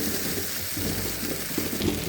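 Tomatoes sautéing in a pan, with a steady, close sizzle and crackle running throughout under faint stirring.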